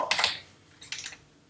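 Code is typed on a computer keyboard in two quick bursts of close, crisp key clicks separated by a short pause.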